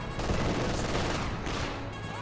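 Gunfire raking grenadier infantry in Company of Heroes 2, a dense continuous crackle of rifle and machine-gun shots blending into a steady roar, fairly loud with no speech.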